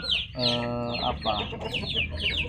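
Chickens cluck and squawk close by in short bursts, one drawn-out call rising among quicker overlapping clucks.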